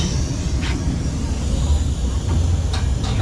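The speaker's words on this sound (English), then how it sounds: "Enjoying your train ride?" Steady rumble and rattle of a White Pass & Yukon Route railway car rolling along near Skagway, Alaska, a continuous low drone filling the background with a few faint higher squeaks and clatters.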